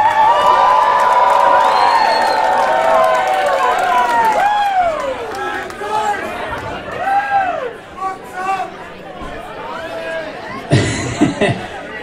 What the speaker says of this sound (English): Big round of applause for Sam for making this happen.